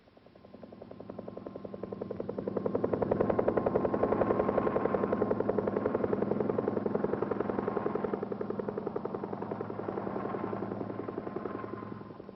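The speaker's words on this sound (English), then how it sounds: "After the explosion, Air Force helicopters survey and monitor the acres of blast area" Air Force helicopters fly over a Nevada atomic test blast area, a steady rapid rotor chop that swells in from near silence, stays loud and close through the middle, then eases slightly, with no voices.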